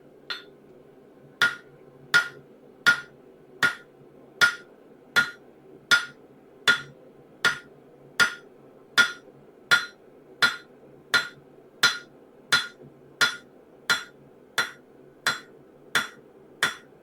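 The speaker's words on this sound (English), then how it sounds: "We're flattening out all of the high spots" A steel spatula blade is hammered flat at a forge, about twenty sharp ringing blows at a steady, even pace, each strike clear and close against a quiet background hum.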